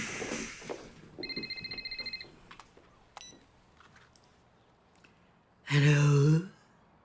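A telephone rings in a home, a bright electronic trill in short bursts followed by other clicks and beeps, then a louder, harsher tonal ring near the end, heard fairly close in an otherwise quiet room.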